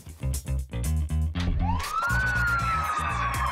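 A police car siren winds up and wails loudly over a pulsing, rhythmic music track, its rising tone holding steady and close.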